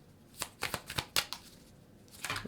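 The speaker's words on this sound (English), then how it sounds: "Do a quick shuffle." Tarot cards being shuffled by hand in a quick run of crisp riffling snaps and flicks, irregular and close, with a short pause before a final flurry.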